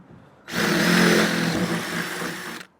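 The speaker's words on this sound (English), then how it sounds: "So now when I drill through, everything's going to automatically just fall straight out of the van." Power drill boring through the floor of a Sprinter van, a loud steady whine starting abruptly and running about two seconds before cutting off, close and alone.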